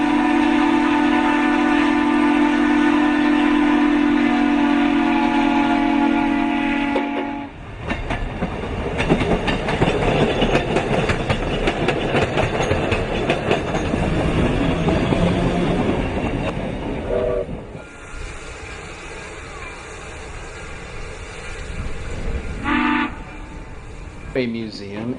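A Shay steam locomotive blows a long whistle, then chugs and clanks past with rattling wheels on the rails, followed by a short horn blast, at the Illinois Railway Museum.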